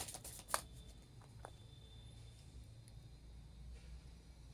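Tarot cards being shuffled and drawn, with a brief crisp card snap near the start and soft riffling scrapes in a quiet room with low background hum.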